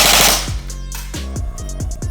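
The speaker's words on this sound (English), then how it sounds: "let's just go ahead and rip it and see what our rate of fire is" An MGC4 Mk1 blaster fires a full-auto burst, a loud, rapid run of close, sharp mechanical shots that rattle in quick succession over about two seconds.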